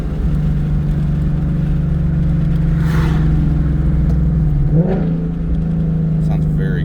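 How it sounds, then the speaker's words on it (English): A Ford Mustang Dark Horse with a Corsa Xtreme exhaust cruises in fifth gear, its engine a steady low drone with a couple of brief rev blips from downshifts as it slows toward a stop sign. "I'm going to put it into 5th gear and do a couple downshifts till I get to this stop sign"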